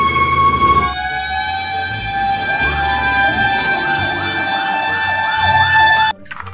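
An electronic toy fire truck siren wails continuously with steady tones and rising sweeps, loud and close, then cuts off abruptly near the end.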